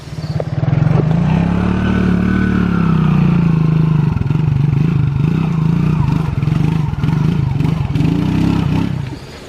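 A Suzuki King Quad 300 ATV engine idles loudly and close by, pulled off onto rocks, with a steady low drone that fluctuates slightly and some rattling, then cuts out at the end; a voice speaks faintly.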